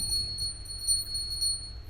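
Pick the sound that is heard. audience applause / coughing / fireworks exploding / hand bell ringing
hand bell ringing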